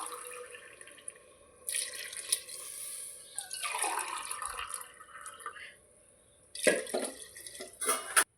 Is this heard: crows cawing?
no